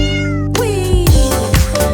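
A cat gives a drawn-out meow followed by several shorter, bright meows in quick succession, loud and close, standing alone with no talk.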